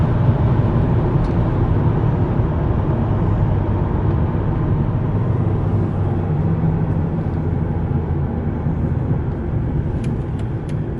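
Steady, loud engine rumble from inside a Mercedes E55 AMG accelerating, a continuous low drone holding through the whole stretch with no talking.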